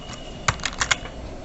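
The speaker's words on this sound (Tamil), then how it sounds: "அவங்களோட அட்ரஸ் மட்டும் நம்ம டைப் பண்ணிவிடுவோம்" Four quick keystrokes on a computer keyboard, close and clear against a quiet room with no voices, as an address is typed into a wedding card design.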